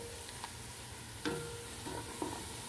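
Onions fry softly in a pan while browning, a faint low sizzle broken by a few light stirring clicks and scrapes.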